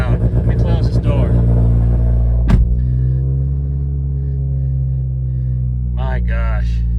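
A car's engine runs loud and close at a dealer auction with a check engine light on, a steady deep idle drone after a brief rev and a thump, with someone talking briefly at the start and end.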